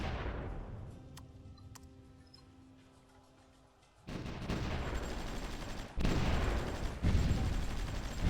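Gunfire in the strategy video game Supreme Ruler Ultimate during urban warfare: a muffled, rumbling barrage that grows louder midway, with dense overlapping shots and bursts continuing steadily to the end.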